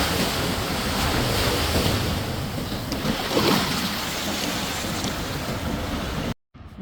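Beach surf rolls in with the incoming tide, a loud continuous wash of waves roughened by wind buffeting the microphone, cutting out abruptly near the end.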